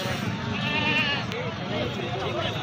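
Goats at a rural livestock sale bleat repeatedly amid a busy, noisy crowd, with voices talking throughout.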